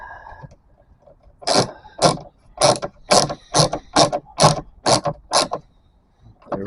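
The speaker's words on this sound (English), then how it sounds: "Now we're just putting the screws back in." Screws being driven back into a plastic light housing on a 2003 Ford Explorer Sport Trac, with a power driver giving about nine short, evenly spaced ratcheting bursts, close up in a quiet space.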